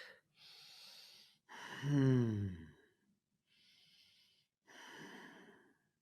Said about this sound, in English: Keep breathing into it.